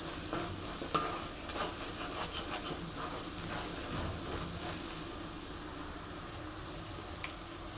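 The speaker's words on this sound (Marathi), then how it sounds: "छान असे मसाले हे भाजून घ्यायचे त्याच्यामध्ये" Spices for misal pav roasting in oil while being stirred, a steady soft sizzle with continuous scraping and stirring textures and a few sharper clinks, close and moderate in level.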